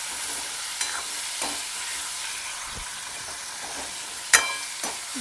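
Tempered soaked moong beans are stirred in a pan over a soft background sizzle, with occasional scraping strokes and one sharp clink of utensil against metal, and no talking.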